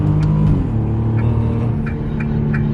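A Nissan G35 car accelerates at full throttle in first gear, its engine note droning loud and close with a rising, strained pitch while the car struggles for power; faint clicks sit above the engine.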